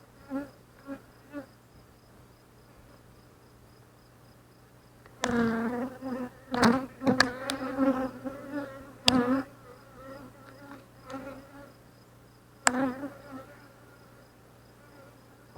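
Honeybees buzz loudly during an inspection of an open beehive, intense droning swells erupting in bursts close by after a quieter stretch of faint hum, with no talking.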